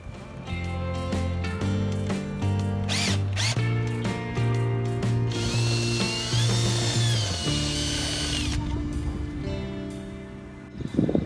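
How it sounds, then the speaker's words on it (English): A power drill whirs loudly and steadily, its pitch shifting as it bites into extruded aluminium on a sailboat's in-mast furling foil, with a brief rattle near the end. "I'm going to re-drill that hole"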